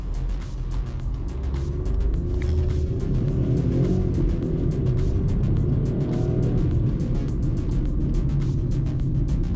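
A Volkswagen Polo Track with a 1.0 engine accelerates on the road, giving a steady, moderately loud engine drone with road and wind rumble and small shifts in pitch, and no voices over it.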